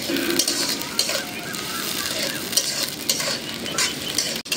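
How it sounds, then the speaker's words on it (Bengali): Chopped onion and chili sizzle loudly in hot oil, with a steady crackling hiss and occasional stirring scrapes throughout. "পেঁয়াজ মরিচটা ভেজে নিই।"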